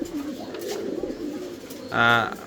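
Pigeon cooing from a pair of good-breed farm pigeons, a low murmuring coo under faint background chatter, then a brighter, louder harmonic call near the end.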